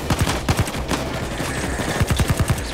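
Rapid automatic gunfire from a weapon in the heist video game Payday 2, two quick bursts of sharp shots close and loud, with no talking over it.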